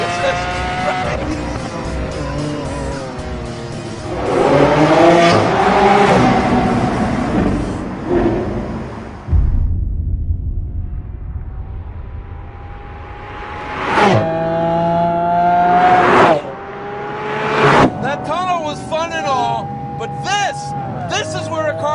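A Lamborghini Aventador SV engine roars and revs hard on a mountain road, rising and falling through repeated accelerations and gear changes with sharp bursts near the end, while someone talks over it.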